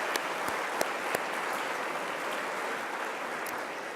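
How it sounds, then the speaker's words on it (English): Audience applause at an Earth Day breakfast event, a steady wash of many hands clapping with a few sharper individual claps standing out, moderately distant and continuous throughout. "Let's give them a big round of applause."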